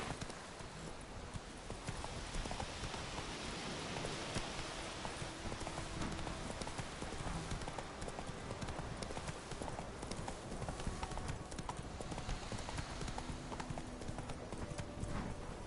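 Horse hooves trotting in The Witcher 3 video game, a steady rhythmic clip-clop over a constant wash of background ambience, continuous throughout.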